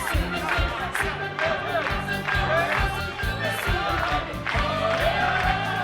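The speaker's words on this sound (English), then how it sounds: "Can we give them a big round of applause one more time?" Wedding guests clap and cheer after the couple's first dance, a lively crowd applause with whoops that swells and dips while a voice speaks over it.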